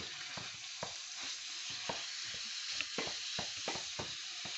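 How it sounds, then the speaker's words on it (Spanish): Minced meat sizzling steadily in oil in a frying pan while being broken up and stirred, with a continuous hiss and repeated scraping strokes of a utensil against the pan, close and moderately loud. "Venga, pues echamos la carne. La deshacemos bien."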